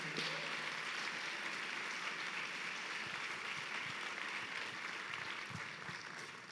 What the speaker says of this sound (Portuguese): agora sim, podemos aplaudir o Senhor